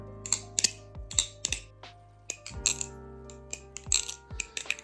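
Bright metallic clacks and rattles of an original-version Marcolo Comet balisong trainer being flipped come in quick irregular bursts, close up and crisp.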